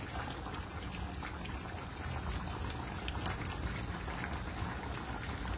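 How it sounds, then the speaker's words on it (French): Goat colombo stew with courgette pieces simmering in a pot, a steady, dense bubbling and gentle liquid crackle that continues evenly throughout without any talking. "Et je laisse mijoter encore."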